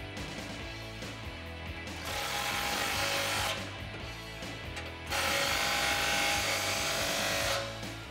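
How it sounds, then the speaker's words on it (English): A power tool runs in two bursts, tightening an exhaust clamp on a 2019-2021 RAM 1500 during a Rough Country dual exhaust install, with a steady buzzing whir, close and fairly loud, separated by a short quieter pause. "All right, now we can tighten up that clamp."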